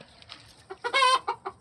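A few close chicken clucks on a date farm, short bursts with a louder drawn-out squawk in the middle, against a quiet background.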